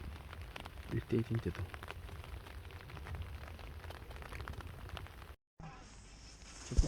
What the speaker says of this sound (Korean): 빗소리 들리시나요?